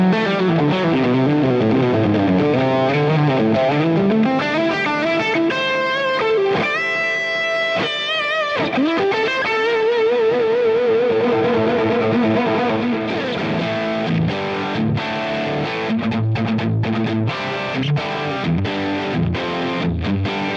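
Distorted electric guitar tones from a Boss GX100 multi-effects unit play loud riffs and chords, with sustained notes, a brief choppy passage midway, and staccato bursts toward the end.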